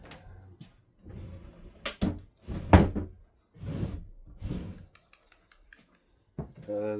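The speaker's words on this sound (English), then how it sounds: "I went ahead and beeswaxed the runners, so now it's got like a nice smooth action to it." A wooden drawer in an upcycled four-drawer chest slides on beeswaxed runners, giving several smooth, close-up sliding swishes broken by short knocks and clicks as it opens and shuts.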